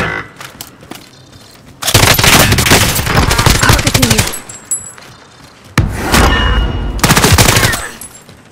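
Loud automatic weapon fire in the video game Call of Duty: Warzone, with two long sustained bursts of rapid shots separated by a brief lull and scattered game sounds.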